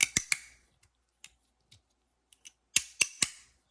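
A magnetic case snaps shut in a series of sharp, close clicks, a few clustered at the start and a final burst of three near the end, with short quiet gaps between.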